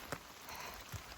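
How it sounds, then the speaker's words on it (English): Steady rain falls in fog along the Appalachian Trail, a soft continuous hiss with a couple of brief nearer drips or taps standing out against the wash. "It is still raining."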